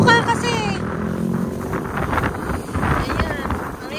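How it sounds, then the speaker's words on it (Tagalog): Strong wind buffets the microphone on a mountain top overlook, a loud continuous rumbling roar with gusty swells, while people talk over it. "May hangin."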